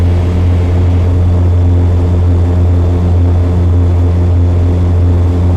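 Multi-engine propeller airplane engines drone loudly and steadily on a landing approach, a constant low hum filling the cabin with no pauses.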